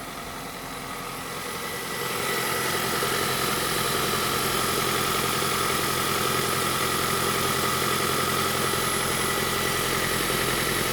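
A Kia Niro 1.6 hybrid G4LE petrol engine idles steadily under an open bonnet, starting quieter then settling into a loud, even hum with constant mechanical vibration.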